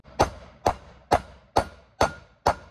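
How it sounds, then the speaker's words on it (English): Six sharp metallic hammer blows driving a bearing race into a Mopar 8 3/4 axle case, in an even, steady rhythm, close and ringing briefly after each strike. "I'll probably knock it over while I'm beating on it with a hammer though"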